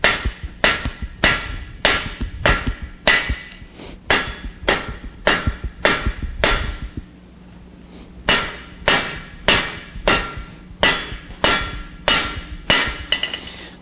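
Hot half-inch steel is hammered on an anvil sitting on concrete, forging a one-sided taper: sharp, evenly spaced ringing blows in quick runs, with a short pause partway through.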